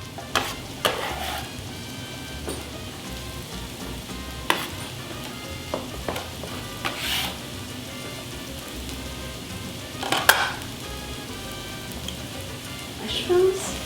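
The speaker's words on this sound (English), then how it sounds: "Hear that sizzle?" Onions dropped into hot extra virgin olive oil in a frying pan for shakshuka, giving a steady soft sizzle with scattered clinks and stirring scrapes.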